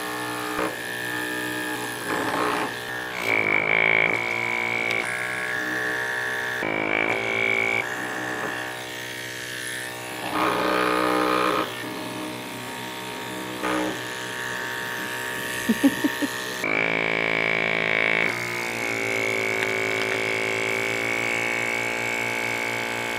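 Electric pump inflating a DIY inflatable prototype, a steady buzzing motor drone that runs almost the whole time with small shifts in pitch, loud and close, while a person talks over it.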